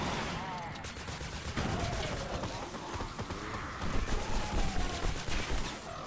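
Sustained fire from a Mercury LMG in Fortnite Save the World, a rapid stream of machine-gun shots with distinct bursts, building louder toward the end, while a voice talks over it.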